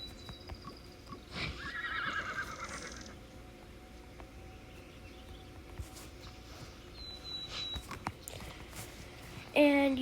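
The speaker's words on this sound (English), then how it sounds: "I should get a faster horse out." A horse in the video game Horse Valley whinnies loudly and its hooves clip-clop at a steady walking pace, with birdsong in the background and a sharp sound at the very end.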